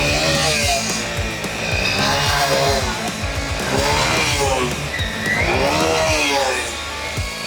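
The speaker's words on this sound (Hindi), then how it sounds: "आप देख रहे हैं बाइक निकल नहीं पा रहा है, इसको धक्का लगाने पड़ रहा है" A village motorbike in a mud race revs hard while stuck in thick mud. The engine note rises and falls in repeated loud surges, straining close by with no pauses.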